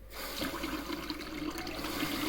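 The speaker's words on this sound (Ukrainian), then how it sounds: "відкриваю воду, щоб всі бачили" Water runs steadily from a tap in a home powered by a budget solar setup with six batteries and one panel, a continuous close rushing stream that starts abruptly and holds alone.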